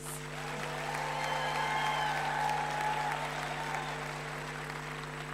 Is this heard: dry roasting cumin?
no